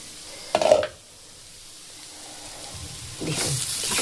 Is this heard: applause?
no